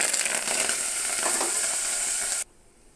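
Curry leaves and coriander hit hot oil in a pan for tomato pappu, giving a loud, steady crackling sizzle that cuts off abruptly near the end, leaving a faint background hiss.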